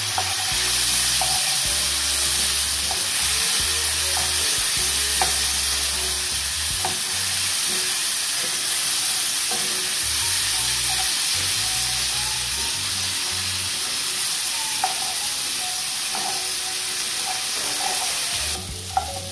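Chickpeas stirred into a sizzling curry in a pan, with continuous loud frying hiss and intermittent scrapes and clinks of the utensil, no talking.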